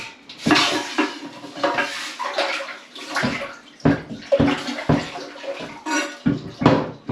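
A plumbing part dipped and sloshed in water inside a toilet tank during a plumbing repair, giving a series of close, clattering splashes and watery knocks with short pauses between them.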